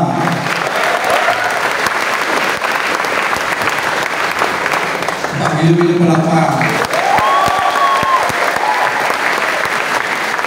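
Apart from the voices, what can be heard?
audience clapping at a seminar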